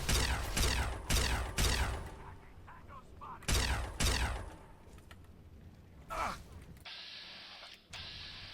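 Gunfire in Fallout 3, a run of loud sharp shots in quick bursts and then a second pair, followed by quieter game effects and a brief electronic tone.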